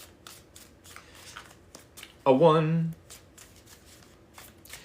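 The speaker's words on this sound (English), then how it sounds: "We need 3 more shuffles." Tarot cards are riffle-shuffled once, a quick, loud, rippling burst of under a second, with a person talking briefly before and after.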